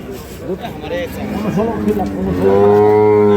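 A dairy cow moos close by at a cattle market in Ambari, Dinajpur, a long drawn-out low call that swells toward the end, with muffled voices and livestock noise in the background.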